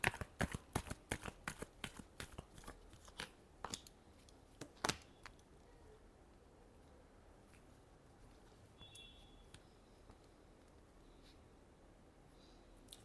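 Tarot cards shuffled by hand in a quick burst of sharp riffling flicks and snaps over the first five seconds, then near silence with a few faint soft rustles.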